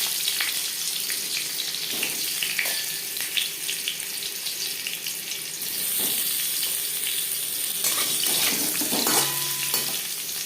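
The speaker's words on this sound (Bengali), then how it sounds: "আলু ভেজে নেব" Potatoes fry in two spoons of refined oil in a wok, giving a continuous close sizzle with scattered crackles and occasional stirring scrapes. Nobody speaks.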